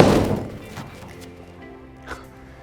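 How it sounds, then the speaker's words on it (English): A TaylorMade Original One mini driver strikes a golf ball off a tee with one loud, close, hollow thwack at the start. The sound fades quickly, and a faint knock follows later. "It's so easy to hit off the tee."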